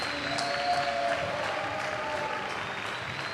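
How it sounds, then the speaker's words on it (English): Jai-alai arena crowd applauding, a steady moderate patter of many hands clapping that lasts throughout, slightly distant in a large indoor space. "As you see the applause coming from the crowd."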